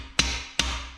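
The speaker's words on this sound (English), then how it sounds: "Rubber mallet, don't use a normal hammer," A rubber mallet whacks engine bearing parts down into place during a Buick L36/L67 3800 V6 bottom end assembly, two sharp close blows about half a second apart, each with a short ringing decay.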